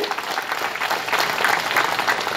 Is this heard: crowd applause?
yes